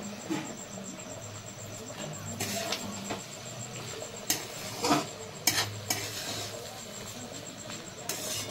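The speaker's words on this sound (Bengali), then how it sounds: "আমি ধনের পাতা দিয়ে ছড়িয়ে নেড়ে চেড়ে" Moong dal pulao with scattered coriander leaves is stirred in a pot, soft scraping and a few sharp spoon clinks over a faint low sizzle, with quiet background hum.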